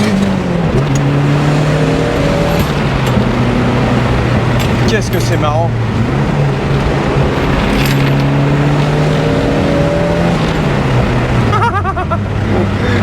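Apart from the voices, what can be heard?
Ford Escort RS Cosworth turbo car accelerating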